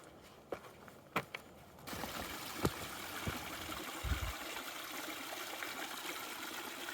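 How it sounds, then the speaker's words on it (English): A small creek pools and flows across a hiking trail in the Cascades, a steady near rush of running water after a few footsteps and knocks at the start, with no talk. "It's a nice little creek, a little pool right across the trail."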